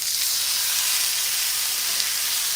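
A panko-crusted rack of lamb sears in a hot pan, giving a steady, even sizzle of frying with no pauses or talk.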